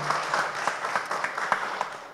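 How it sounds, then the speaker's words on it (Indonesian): Audience clapping at the third-anniversary celebration of MPP Jogja, a public service mall, with distinct hand claps popping out of a dense, even round of applause. "Tepuk tangan dong untuk MPP bintangnya udah"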